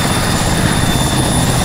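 Helicopter rotor and engine noise in the military shooter Arma III, a steady loud continuous roar with no breaks, heard alone without any talking.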